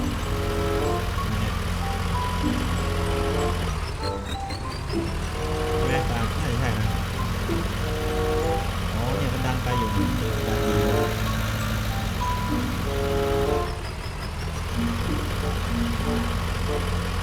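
Steady engine drone from a Ford 7610 tractor in Farming Simulator 19, loud and continuous with a harmonic hum, some shifting tonal changes throughout and a couple of brief dips.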